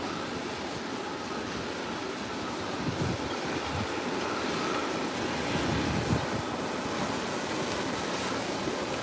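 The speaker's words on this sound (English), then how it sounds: "Quiet ramp so far for the morning. Just one aircraft" An aircraft engine hums at a distance on a quiet morning airport ramp, a faint, even drone that holds steady and swells slightly partway through, with no voices.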